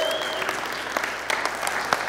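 A church congregation applauding, a short burst of dense, steady clapping from a crowd with some sharper individual claps standing out, fairly close and loud throughout.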